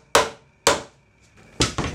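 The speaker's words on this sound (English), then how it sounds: "so I come back and finish them with a hammer" Sharp hammer blows drive nails into a wooden aquarium stand, three distinct hits spaced apart with a quick fourth tap, close and loud in a quiet room.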